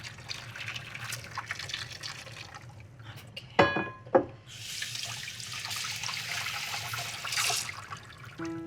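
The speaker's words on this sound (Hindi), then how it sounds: "अब इसको थोड़ा ठंडे पानी में छान कर भिगो देती हूँ ताकि छीलने में आसानी हो" Boiled taro (arbi) being strained and soaked in cold water in a home kitchen for a vrat dish: steady running and splashing water, a couple of sharp clatters midway, then a louder rushing pour, close and with no talk.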